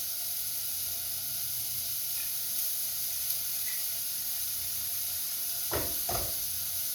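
Chicken piccata browning in a pan gives a steady, soft hiss and sizzle, with two brief louder crackles near the end.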